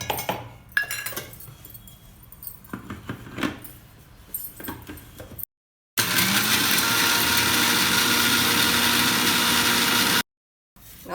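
Green chillies and salt being ground in a mixer grinder: a few light clinks and clatters first, then a loud, steady whirring roar that runs for about four seconds and stops abruptly.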